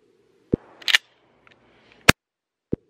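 Shotgun blasts at an outdoor shooting session, three sharp, loud reports spaced apart, with a short rattle of handling noise between the first two shots.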